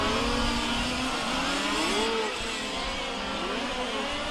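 Large-scale RC race car sweeping through a chicane at a world championship final, its small engine buzzing steadily with rising and falling revs, moderately close, with continuous track ambience and no talk.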